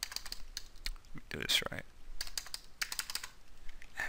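Bursts of computer keyboard typing, clattery and close, played by someone with tape on one hand, broken by a short spoken line in the middle.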